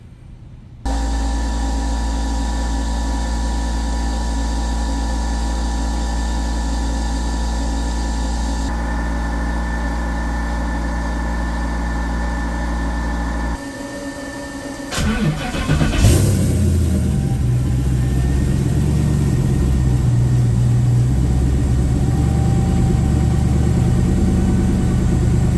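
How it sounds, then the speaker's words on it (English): A racecar engine cranks and fires up, then settles into a steady, loud idle with a deep, even rumble that carries on for the rest of the stretch. "So we're gonna start the engine"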